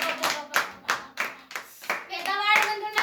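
Worshippers at Zion Church in Paluru clap their hands in praise, with loud, sharp claps in a fairly regular rhythm. A voice chants or sings along toward the end.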